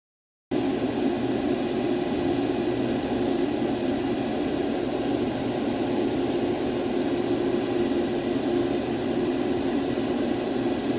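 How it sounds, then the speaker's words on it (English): A loud, steady whooshing drone of a laser engraver's exhaust fan runs continuously without change, close and constant throughout. "In case you're wondering what's making all the noise, it's the exhaust fan."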